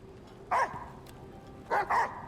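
A dog in the Icarus video game gives a short bark, then a quick double bark a moment later, close and clear over a low steady background hum.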